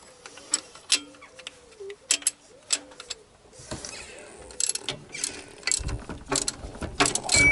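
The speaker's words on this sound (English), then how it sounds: "we shall snug up that 12mm at the bottom of the alternator" Ratchet snugging a 14mm bolt at the bottom of an alternator, heard as irregular close clicking bursts and metallic ticks, getting busier toward the end, with no talking.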